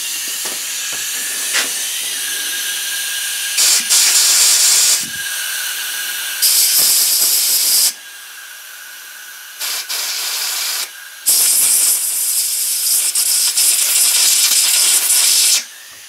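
Compressed air blasts through a corroded carburetor part during cleaning, loud hissing bursts in several separate gusts of a few seconds each, with a faint steady whine between them.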